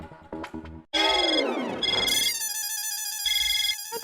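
A phone rings loudly and close during an outgoing call, a bright repeating electronic ringtone that plays steadily for several seconds.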